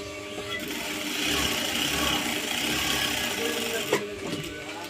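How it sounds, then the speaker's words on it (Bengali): A sewing machine runs steadily while stitching a straight seam on pants, a continuous close mechanical whirr lasting several seconds with a brief knock near the end. "এই যে জাস্ট এইভাবে সেলাই করে দিচ্ছি সোজাসুজি করে"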